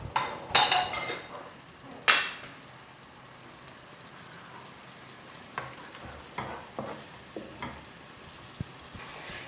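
Sardine meatball ingredients sauté in a pan with a soft sizzle, broken by loud clinks and scrapes of a utensil stirring against the pan, then scattered lighter taps, near and without speech.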